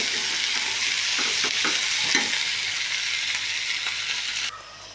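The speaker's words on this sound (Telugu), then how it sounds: "ఇలా సన్న మంట మీద మగ్గరేసుకోవాలండి" A pan of ivy gourd chutney simmers and sizzles steadily on a low flame at close range, with a few light stirring scrapes near the start, before the sound cuts off near the end.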